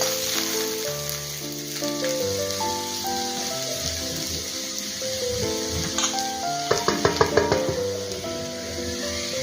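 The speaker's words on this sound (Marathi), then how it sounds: "आता वाटण सगळं मी भाजून घेते" Chopped onion and grated wet coconut roasting in a pan, with a steady sizzle under tonal background music and a quick run of sharp scraping stirs near the end.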